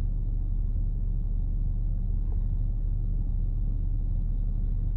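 Steady low road rumble from inside a car sitting in traffic, a constant engine and tire drone with no voices.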